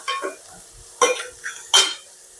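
Onions with mint and coriander stems sautéing in a pan for paneer butter masala, a few distinct bursts of sizzling as the mixture is stirred and tossed, separated by quieter pauses, with no talking.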